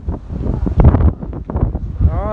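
Very strong wind in Governador Valadares roars and buffets the microphone in heavy, uneven gusts, loud and constant throughout, with a voice faintly mixed into the rumble.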